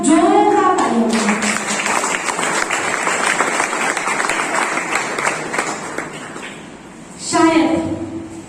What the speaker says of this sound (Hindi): इनके लिए एकदम जोरदार ताली होगी